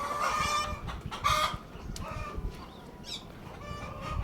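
Broiler chickens on a farm cluck and call in a steady, close chorus, with a few sharper squawks standing out over the flock's continuous murmur.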